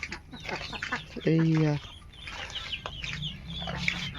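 Household ducks and chickens cluck and call at a farmyard home, with one louder, drawn-out call standing out partway through as people talk nearby.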